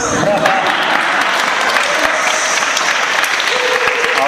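Church congregation applause in a Paris church, a steady bed of clapping that holds evenly for about four seconds with a voice speaking over it.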